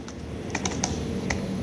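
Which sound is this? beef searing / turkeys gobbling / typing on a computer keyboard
typing on a computer keyboard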